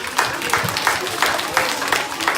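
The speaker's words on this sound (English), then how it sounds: "Give yourselves a big clap." Whole-school assembly at an awards ceremony clapping for Year 1 pupils. The applause is steady and fairly loud, with a roomful of hands pulsing in waves throughout.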